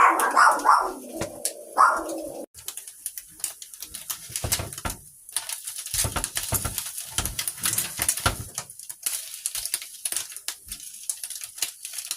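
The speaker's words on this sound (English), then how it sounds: "I gotta go check and see what they're barking at." A few quick dog barks at the very start, then fading into quieter rustling and knocking background noise.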